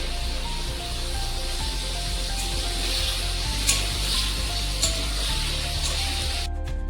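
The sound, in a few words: paneer frying in a pan with salt and turmeric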